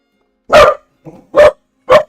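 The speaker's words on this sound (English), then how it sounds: "The dog made me jump because she started barking all of a sudden." A dog barks suddenly and loudly nearby, three sharp barks with a soft huff between them and silence around them.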